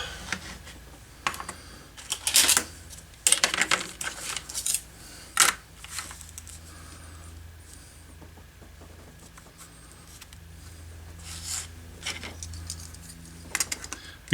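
Material is cut while making a slide holster: close, irregular sharp snips and taps in bursts, then quieter scraping and occasional clicks.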